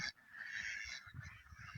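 A flock of layer ducks on a duck farm calling close by, overlapping nasal quacks and honks in a brief, busy burst.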